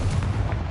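Explosion from the Confringo blasting spell in the Hogwarts Legacy video game, a short, loud, booming low rumble with crackling bursts lasting under a second.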